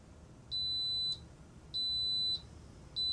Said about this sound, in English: that beeped several times to let you know the cooking was done